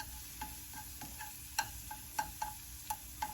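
Smilax shoots cooking in a pan with butter and onion, a steady soft sizzle punctuated by regular light clicks and taps of a utensil stirring, close by with no voices.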